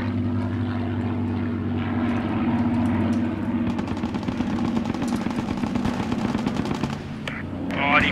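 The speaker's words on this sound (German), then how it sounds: "Boah, die knallen jetzt alles auf uns." Video game gunfire in Post Scriptum, rapid machine-gun bursts over a droning propeller aircraft engine, loud and continuous with a brief voice near the end.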